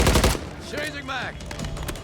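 A short burst of rapid gunfire in a Modern Warfare game opens the moment, followed by quieter in-game noise with warbling tones and scattered faint impacts.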